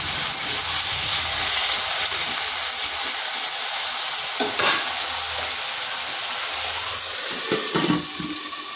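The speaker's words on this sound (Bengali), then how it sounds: "এরপর আলুটাকে এইভাবে 3 থেকে 4 মিনিট হালকা একটু ভেজে নেব।" Potato pieces fry in oil in a pan during home cooking, giving a constant close sizzle with occasional stirring scrapes and bursts of crackle over nearly nine seconds, with no talking.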